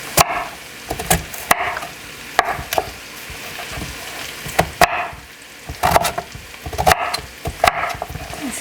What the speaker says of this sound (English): what I do next is I'll just slice it.